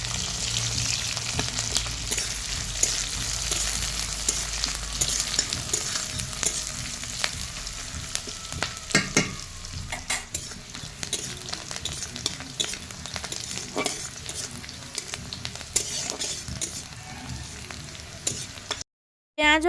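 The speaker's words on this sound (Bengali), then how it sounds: "এবার পেঁয়াজ ও কাঁচা লঙ্কাটাকে হালকা বাদামি কালার হওয়া পর্যন্ত ভেজে নিব।" Onion and green chillies fry in hot oil with a constant close sizzle, stirred now and then with scraping clicks of a spatula against the pan, no talking, ending abruptly.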